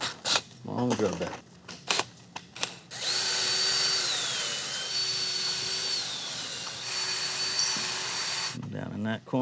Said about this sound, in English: Long drill bit.